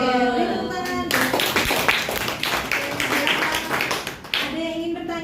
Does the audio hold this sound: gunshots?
no